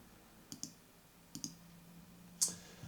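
Sharp computer mouse clicks while working in Lightroom's remove tool, a close pair at about half a second, another pair near one and a half seconds, then one brighter single click, over a quiet room hum.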